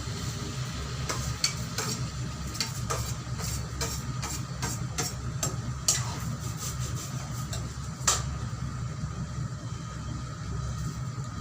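Vegetables sizzle steadily in a pan as tomato is added, with occasional sharp scraping stir strokes cutting through the continuous frying hiss, close and fairly quiet.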